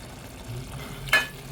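Mushroom masala sizzles gently in a pan as it is stirred after fresh coriander goes in, ending with a quick, close scrape of the spoon.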